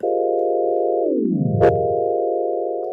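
A sustained synth pad chord slides down in pitch, a quick click sounds, then the chord returns and holds steady.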